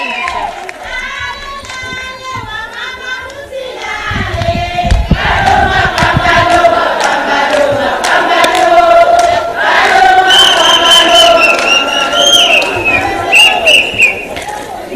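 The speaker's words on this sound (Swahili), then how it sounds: "mupigieni makofi jameni" A large crowd at a UDA women's congress at the Bomas of Kenya in Nairobi cheers and shouts loudly, a dense, sustained roar of voices and applause that swells and continues throughout.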